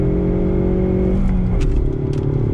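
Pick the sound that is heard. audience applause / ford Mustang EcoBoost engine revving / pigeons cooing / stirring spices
ford Mustang EcoBoost engine revving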